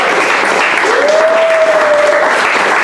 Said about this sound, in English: let's give him a big applause.